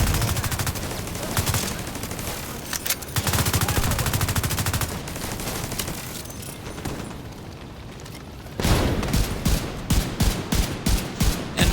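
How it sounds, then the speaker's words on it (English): Rifle gunfire in The Division 2, a dense stream of rapid automatic shots under game noise, then a short lull and a run of loud, evenly spaced bursts near the end. "like when I'm firing with my rifle right there"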